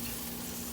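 Extra sharp cheddar is stirred into au gratin potatoes, a brief, steady, moist swishing and scraping in the pot, close and fairly quiet, with no voices.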